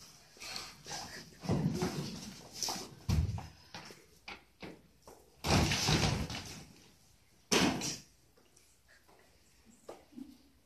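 A closet door opening indoors, heard as a run of close knocks, scrapes and rattles with two louder broadband clunks partway through and near the end, no voices.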